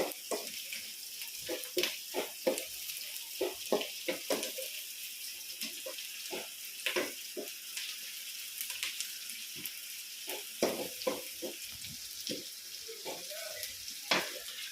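Onions sizzle steadily in a pan while being cooked down for an egg gravy, with frequent sharp scraping and stirring clicks from a utensil throughout.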